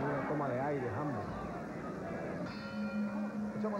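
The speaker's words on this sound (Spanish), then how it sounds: "Echamos la campana, amigos, finaliza el quinto." A boxing ring bell rings to end the fifth round of a light flyweight bout, a ringing tone sounding in the second half under a busy commentator's voice and crowd noise.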